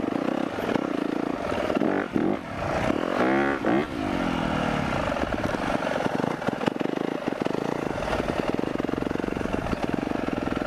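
KTM 350 dirt bike revving hard through wheelies in first gear, a loud buzzy engine note that swells and falls in pitch around the middle, then holds a steady close throttle drone with no speech over it.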